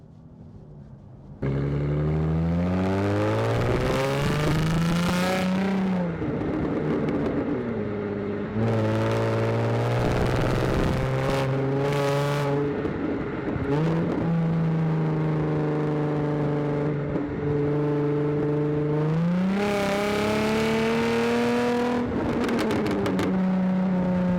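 A 3-litre supercharged petrol Jaguar F-Type engine revs loudly and steadily with rising and falling pitch, climbing through several gears in strong pulls with brief shift breaks, close and alone.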